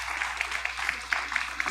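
Congregation clapping during a church service, a short burst of rhythmic, evenly spaced claps at moderate distance over a steady background hum.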